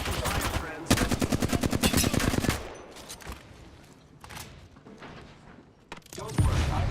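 Automatic gunfire in an Apex Legends match during an ALGS playoff: a fast, loud rattling burst, then sporadic single shots and a final burst, close and sharp.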